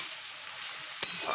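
Masala sautéing in oil in a pan for a Bengali katla fish and ridge gourd potato curry, a steady close sizzle with a brief scrape or stir near the end.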